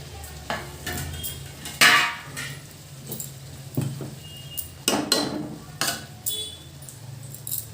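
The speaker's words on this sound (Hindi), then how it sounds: "अब इसमें डाल देंगे हम राजमा।" Kidney beans (rajma) tumble into fried masala in a pan, producing scattered clatters, scraping stirs and a soft sizzle close by, with repeated metallic knocks over a steady kitchen background.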